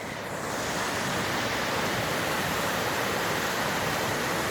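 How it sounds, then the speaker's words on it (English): High floodwater pours over a drop like a waterfall, a dense, loud and continuous rushing roar heard up close with no voices. "Sounds like waterfalls."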